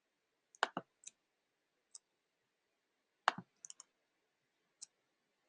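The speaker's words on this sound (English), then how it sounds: "So I'm just clicking on all these things." Sharp mouse clicks in a quiet room while working in design software, arriving singly and in quick pairs and triplets with pauses between, close and crisp.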